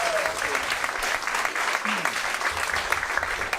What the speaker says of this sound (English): Round of applause for Lucy.